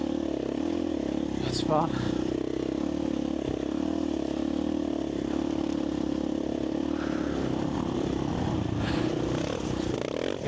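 A 501 dirt bike rides through sand dunes, its engine droning steadily with a few revs while a voice talks briefly over it.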